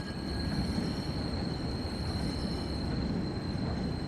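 Worn bearings and wheels on a Train Sim World train squeal steadily as the cars roll, a high metallic whine held over a dense, continuous rumble with no talking.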